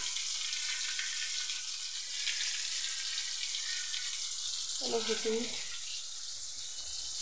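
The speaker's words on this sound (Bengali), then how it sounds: "মাছটা ভেজে নেবো প্রথমে" Fish fries in a pan with a steady, moderate sizzling hiss throughout, briefly joined by a short voice partway through.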